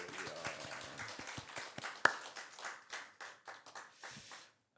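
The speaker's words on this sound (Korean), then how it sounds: "우리 하나님께 영광의 박수 한번 올려드리겠습니다." A congregation claps together during a Korean Trinity Sunday worship service in church, a busy, fairly close burst of applause that fades and stops near the end.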